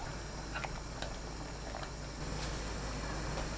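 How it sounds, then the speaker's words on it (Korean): A steady low bubbling roar of noodles boiling over high heat in a pot runs throughout with occasional faint clicks and pops. Nobody speaks. "냄비에 물이 끓으면 국수 넣고 센 불로 삶아줍니다."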